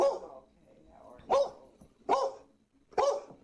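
A dog barks four times at uneven intervals, each bark sharp and close, with quieter whimpering sounds between the barks.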